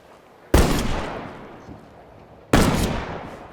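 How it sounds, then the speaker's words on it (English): A long-range shotgun in State of Decay 2 fires twice about two seconds apart, each a sharp loud blast that rings out and decays slowly. "A long-range shotgun."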